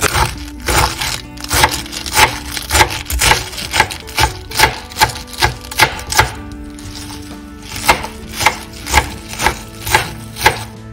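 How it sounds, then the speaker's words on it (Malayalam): A knife chops spinach leaves on a cutting board in steady, rapid strokes, about twenty crisp close taps with a short pause midway, and no talking. "നമുക്കിപ്പോൾ ഈ ചീര ഒന്ന് ചെറുതായിട്ട് മുറിച്ചെടുക്കാം"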